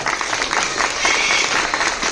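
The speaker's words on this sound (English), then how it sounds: "put your hands together for the cast of the Sarasota Bird Show" A crowd applauds the cast of the Sarasota Bird Show at Sarasota Jungle Gardens in Florida, a steady, moderately loud outdoor clapping that holds evenly throughout.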